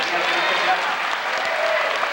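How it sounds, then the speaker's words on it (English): An audience at a Universal Studios show applauds in a dense, even wash of clapping, with voices mixed in beneath it. "How about a round of applause for all of that thing?"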